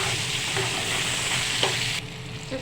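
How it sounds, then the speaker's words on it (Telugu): Large-cut tomato pieces sizzle and fry in a pan, a steady close crackling hiss with occasional stirring scrapes, alone without voices. "టమాటా ముక్కలు వేద్దాము"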